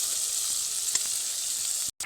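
Tomato paste sizzles in hot oil in a pan for chana paneer, a loud steady hiss that runs unbroken before cutting off abruptly near the end, with no one talking.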